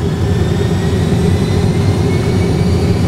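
Airliner jet engines roaring at high power during a go-around climb, a dense steady rumble heard from inside the cockpit, continuous and loud with no break.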